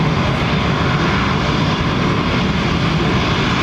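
A Boeing 777-200 powered by Rolls-Royce Trent 800 engines thunders past in a loud, dense, unbroken engine roar at close range, with no talking.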